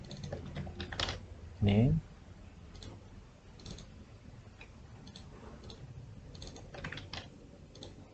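Computer keyboard keystrokes during a computer networking lab exercise while text is copied and pasted, a sparse scatter of light clicks close by and quiet, with a brief spoken word near the start.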